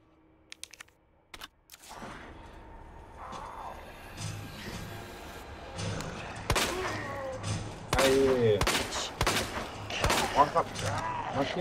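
Gunfire in the PC video game Resident Evil 2 Remake: sharp shots ring out alone at first, then a rapid run of several loud reports over a low game soundtrack, with a voice talking alongside.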